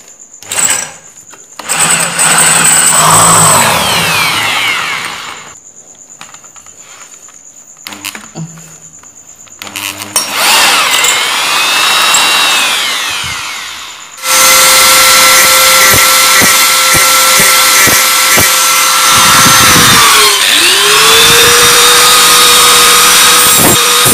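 A loud electric drill with a 7 mm bit whines in bursts, its motor pitch rising and falling as it bites in, ending in a long, steady high-speed run.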